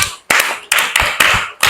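Schoolchildren in a classroom clapping their hands, a few sharp rhythmic bursts of claps close by, each one ringing briefly before the next.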